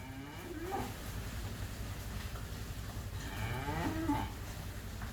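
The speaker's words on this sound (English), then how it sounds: "A whole lot of cows." A herd of cows passes close by a workshop, several animals mooing in long, low calls that rise and fall, with two louder moos standing out over a steady background rumble.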